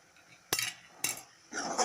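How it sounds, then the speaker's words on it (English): Garam masala and chili powder being mixed in a pan for bottle gourd kofta curry: three short, fairly quiet scraping clinks of a spoon against the pan, about half a second apart. "We'll mix it all together and fry them"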